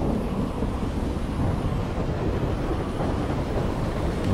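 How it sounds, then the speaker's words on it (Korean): A deep, continuous low rumble of thunder in the Super Mario Odyssey video game, loud and steady for a few seconds with no talk. "번개도 꽁꽁 치고"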